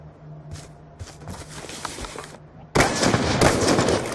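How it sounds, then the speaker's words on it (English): Video game gunfire in a Black Ops 2 1v1 match: scattered shots early on, then a sudden, sustained barrage of loud, dense shots in the second half. "See where I'm shooting?"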